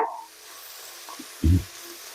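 Garlic frying in oil for a spice powder gives a soft, faint sizzling hiss close by, broken once by a short low knock of a utensil against the pan.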